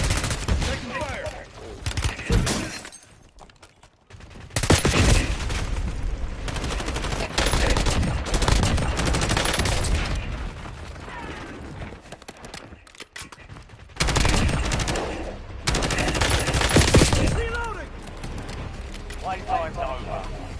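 Rapid gunfire fills a Call of Duty-style shooter battle: loud overlapping automatic bursts come in waves with brief lulls, while voices speak over the fighting.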